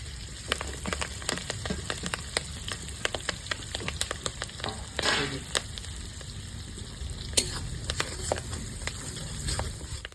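Garlic, green chili and curry leaves frying in a pan, a close, steady sizzle with crackling pops and a brief louder hiss partway through, no talking.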